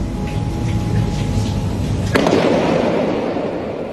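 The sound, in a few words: firecrackers thrown from upper-floor residence exploding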